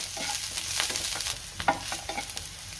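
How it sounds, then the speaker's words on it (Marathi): Chopped onion, ginger, garlic and fine coriander fry in a pan for a dhaba-style shev bhaji. A close, steady sizzle runs throughout, with stirring scrapes breaking in now and then and no talking. "आता ह्यातच मी आलं घालतेय, लसूण घालायचं आहे आणि थोडी बारीक चिरलेली कोथिंबीर आणि पुन्हा 2 मिनिटं चांगलं परतून घेणार आहे"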